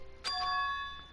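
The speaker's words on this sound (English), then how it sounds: "That bell just now." A single bright bell chime rings out in the video game Danganronpa 2: Goodbye Despair, a sharp strike followed by a clear, sustained ringing tone that slowly fades over quiet background.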